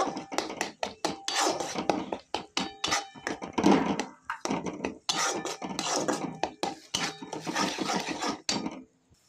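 A spoon works yogurt into fried spice masala in a pan while cooking Bengali katla fish, giving repeated clinking scrapes and thunks against the metal in an irregular rhythm, close and fairly loud.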